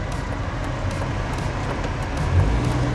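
A BMW E36 Touring drives along a road on the way to a car wash, with a steady low rumble of engine and tyre noise from inside the car and a slight swell near the end, no talking.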